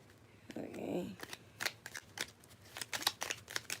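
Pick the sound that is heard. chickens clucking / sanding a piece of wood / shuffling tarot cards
shuffling tarot cards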